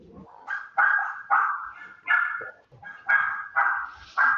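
A dog barks repeatedly in short, rhythmic yelps with whimpering tones between them, about eight loud, close calls in quick succession with no talk.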